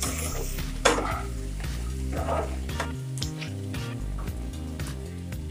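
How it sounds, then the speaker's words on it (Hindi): Aloo gobi matar curry with salt being stirred in a frying pan, a steady close sizzle with scraping spoon strokes throughout, over faint background music and no talk. "इसे हम अच्छी तरह से मिला देंगे।"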